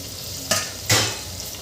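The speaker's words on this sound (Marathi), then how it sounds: "इथे मी धुतलेले तांदूळ घालून घेतले." Washed rice is tipped into a hot pan of oil and spices for Maharashtrian masale bhat and stirred, making two quick sizzling scrapes close by.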